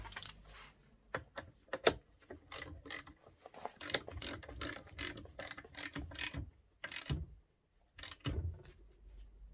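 Bolt being screwed in tight on a Beast magnet rebuild, a quick series of sharp ratcheting clicks in bursts with short pauses, close and fairly loud.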